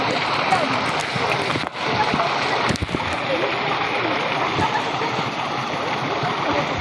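Rain pours down as a dense, loud, steady hiss close by, broken by a couple of brief knocks.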